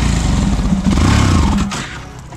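A Yamaha FZS V3 motorcycle pulls off in third gear, its engine loud and close as it lugs and clatters before fading out as the bike stalls.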